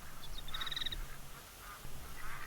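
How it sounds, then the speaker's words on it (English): Mallard ducks quacking in the hunting game theHunter: Call of the Wild, a quick run of nasal quacks followed by quieter calls over a steady outdoor lake ambience. "Probably got about 15 ducks there."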